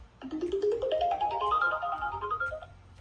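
A phone call rings through before switching to voicemail: a single electronic ringing tone that climbs steadily in pitch over about three seconds, clear and alone with no voices.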